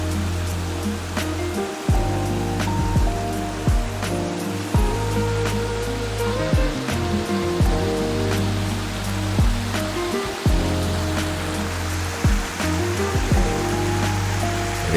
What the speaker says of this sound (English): I found this cute little waterfall that I was completely smitten with.